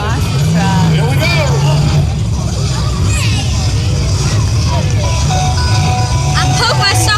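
A monster truck's engine drones steadily at an expo, with a low rumble running throughout under crowd chatter and voices of people nearby.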